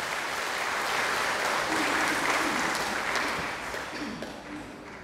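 An indoor crowd at a parish anniversary celebration claps in a dense burst of applause that swells and then slowly fades away.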